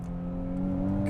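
A Nissan Z with a manual transmission blips its engine as it rev-matches a downshift, a steady close engine drone rising slightly in pitch over about a second.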